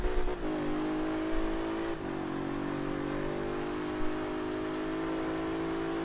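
A car engine in Forza Horizon 3 drops to low revs as gears are shifted down, a steady droning hum with pitch steps, loud and close throughout.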